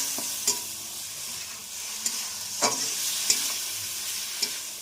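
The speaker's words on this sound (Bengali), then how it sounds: "এবার মশলাটাকে ভালো করে কষিয়ে নেব" Spice paste of turmeric and chilli powder stir-fried in a pan for kela kofta, a steady bright sizzle broken by several sharp scraping stirs of the spoon, close and alone with no voices.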